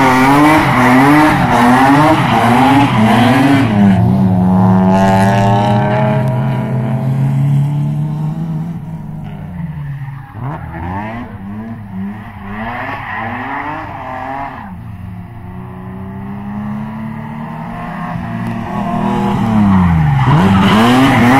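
Tires squeal continuously as a young driver drifts a car around a race track on a repeated lap, the engine revving in rising and falling waves, loud and close throughout.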